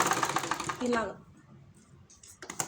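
A sewing machine runs a rough stitch on a frock, about an inch below the waist seam, for a side attachment. A rapid mechanical whir sounds under a voice for about a second, then fades to a faint hum.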